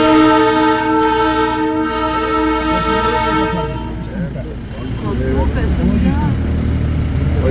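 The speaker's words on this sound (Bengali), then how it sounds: "ট্রেনটা ছাড়লো" A Darjeeling toy train sets off from a hill station, its long sustained horn tones ringing loudly for a few seconds before giving way to rumbling wheels and mixed crowd and street noise nearby.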